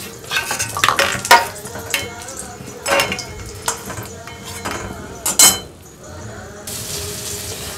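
Lightly ground coconut paste being fried in a pan for coconut chana dal, with irregular clattering spoon scrapes and knocks against the pan over a low sizzle.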